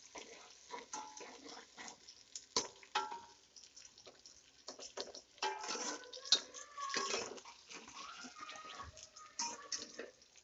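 Chopped onions frying in a pan for kadhi pakora masala, heard as irregular clinks and scrapes of a spoon against the pan over a faint sizzle, fairly close and uneven, with no talking.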